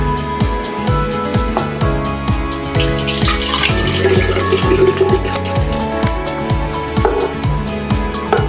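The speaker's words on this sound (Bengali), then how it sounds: "ঢেলে দিচ্ছি।" Liquid pours steadily into a container for a mango and lychee drink, a continuous close splashing and gurgling stream that holds throughout, with no voices.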